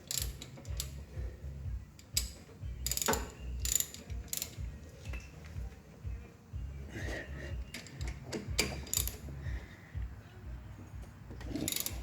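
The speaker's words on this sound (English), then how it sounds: "I'm just going to tighten them back up." A ratchet tightens the brake caliper bolts on a car, giving repeated bursts of close, rhythmic clicking separated by short pauses.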